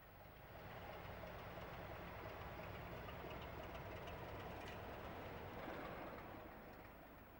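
Diesel locomotive 901 runs round its train at Stanlow in 1987, giving a faint, steady engine rumble and rolling noise that holds level for several seconds, heard alone and at a distance.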